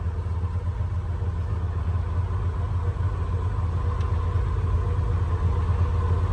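A Polaris Xpedition Northstar side-by-side engine-braking down a trail hill, its engine holding a steady, close, mid-pitched drone throughout with no speech.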